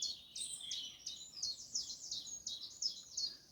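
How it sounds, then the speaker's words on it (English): Birds sing in wet woodland with willow trees, a run of quick bright chirps and trills repeating steadily at moderate distance, with no talk over them. "The birds are singing"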